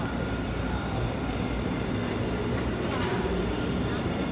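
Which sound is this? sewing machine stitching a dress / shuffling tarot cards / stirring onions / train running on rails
train running on rails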